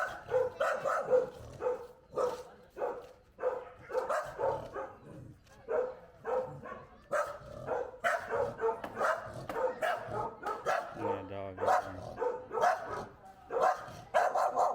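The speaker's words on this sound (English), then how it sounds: "A lot of dogs here." Several dogs bark repeatedly and loudly nearby, overlapping yaps and bow-wows in an irregular chorus, with a short whimpering stretch partway through.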